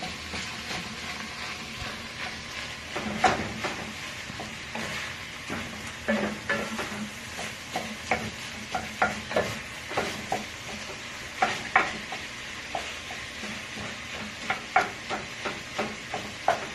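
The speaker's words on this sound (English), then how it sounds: "you're going to cook the meat with the onion" Meat and onion fry in a pan, a soft steady sizzle under repeated spatula scrapes and stirs that come in uneven bursts, close by and moderately loud.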